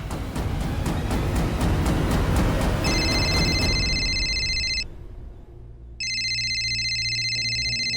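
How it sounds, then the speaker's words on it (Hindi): An electronic ringing tone trills in bursts over a busy noisy background, pauses briefly, then starts ringing again, loud and close. "महर का फोन।"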